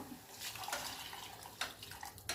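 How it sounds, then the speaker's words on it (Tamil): Water poured into a cooking pot for drumstick flower soup over sautéed onions, a steady close splashing pour with a few brighter bursts of liquid. "இப்போ தேவையான தண்ணி ஊற்றுறோம்"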